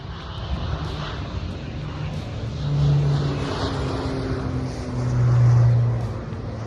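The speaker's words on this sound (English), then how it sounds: "And here comes a spray plane." A low-flying crop-duster spray plane drones overhead, its propeller engine swelling twice as it passes close, then fading slightly between passes.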